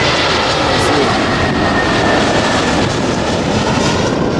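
A passenger plane comes in to land beside the Proud Bird Restaurant, its loud, steady roar of engine and rushing air filling the whole stretch with no voices.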